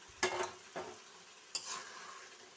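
Fish dropped into sizzling cooked-down spice paste with oil in a pan for a fish curry, with three sharp bursts of frying hiss and stirring clatter, close and fairly quiet, no talk.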